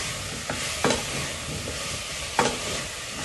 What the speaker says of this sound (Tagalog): halo mo lang siya